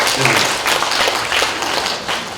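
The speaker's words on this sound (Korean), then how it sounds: "그렇다면 다시 한번 박수 주셔야 돼요" Loud, close applause from an audience at a residents' self-governance training session, many hands clapping in a dense burst that stays strong throughout.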